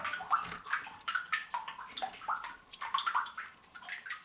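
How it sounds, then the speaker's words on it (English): Water drips and splashes inside an old family house coal mine in Webster County, West Virginia, a series of irregular, close liquid plinks and gurgles echoing in the enclosed space. "There's that water dripping right in front of the camera."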